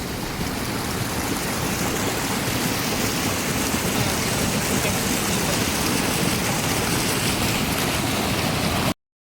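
Cold mountain spring water at Thandiani runs in a steady, dense rushing flow, close and constant for the whole stretch before cutting off abruptly.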